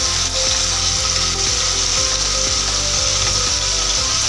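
Chicken curry with spices and yogurt frying in a pan, a dense constant sizzle with regular rhythmic scraping strokes of a spoon stirring the mixture, close and fairly loud.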